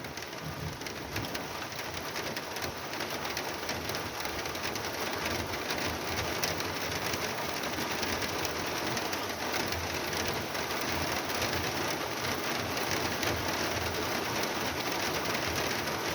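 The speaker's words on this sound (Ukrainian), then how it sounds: "Ну і як вам дощ?" Steady rain falls on a surface in a constant dense hiss, with a bird cooing faintly in the background.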